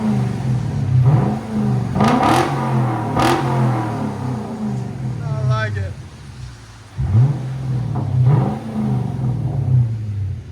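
A Lexus LS 460 with a 4.6L V8 and muffler delete revs up sharply several times, loud and nearby, settling back to a rumbling idle between blips while people talk over it.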